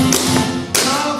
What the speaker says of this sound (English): Four stomps.